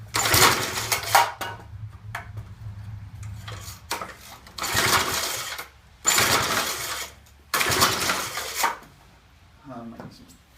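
A homemade gas vapor engine is cranked in repeated bursts of mechanical clattering and ratcheting, with brief running spells between pauses, close by with a voice partly under it.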